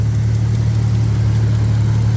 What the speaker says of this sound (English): You hear that ticking? It's the evap over here.